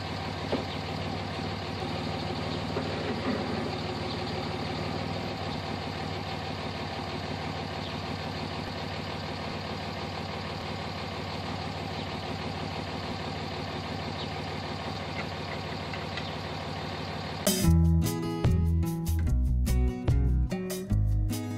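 Vehicle engine idling steadily for a long stretch while being shifted in and out of gear, with a low constant rumble and then a sudden louder, choppy burst of sound near the end.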